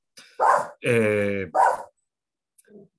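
A dog barks a few times up close, sharp loud barks with one drawn-out harmonic yelp in the middle, then a faint short whine trailing off at the end.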